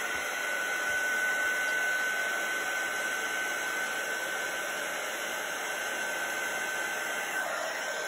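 A heat gun melts and sets metallic silver sparkle embossing powder on a stamped card topper, producing a steady, close blowing whir with a constant high whine and no break.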